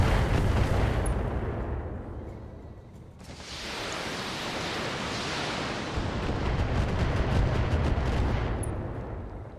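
Mech weapons fire in the Battletech video game as a dense, roaring barrage of explosive blasts, loud and sustained, easing briefly before surging again with rapid crackling bursts.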